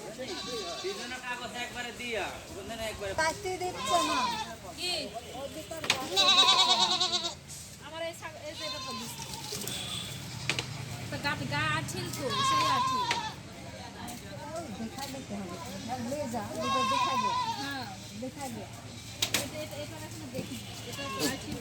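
Goats bleat repeatedly during a livestock package distribution at the Bagatipara upazila animal hospital in Natore. Several animals call near and far over a crowd with continuous talking.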